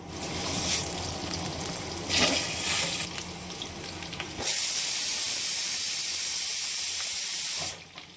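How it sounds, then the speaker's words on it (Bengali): Cut potatoes tipped into hot mustard oil for a vegetarian okra-and-potato dish erupt into a loud, steady hissing sizzle midway. Fainter kitchen noises come before it, and the sizzle cuts off abruptly near the end. "এবারে কেটে রাখা আলুটা দিয়ে দেব তেলে"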